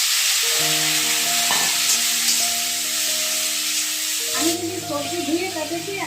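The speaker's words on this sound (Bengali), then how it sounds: "এখানে যে মূলগুলো কেটে রেখেছি এগুলোকে ভেজে নেবো" Cut radish frying in a pan, a constant sizzle with stirring, while a voice speaks over it throughout.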